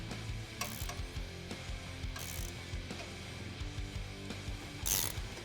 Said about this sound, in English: Then we can tighten that down with an 8mm Allen socket